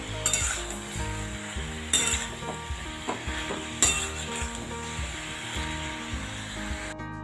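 Ridge gourd tossed with chilli, cumin and coriander powder and a pinch of sugar in a hot pan, a spatula scraping and stirring through steady sizzling, with a few sharper knocks against the metal along the way.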